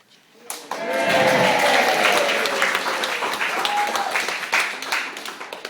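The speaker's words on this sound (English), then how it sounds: "And thus, cheering." A crowd at Willersley Castle hotel bursts into applause and cheering. The dense, loud clapping swells quickly, carries voices and whoops through the middle, and stays steady for several seconds before starting to thin.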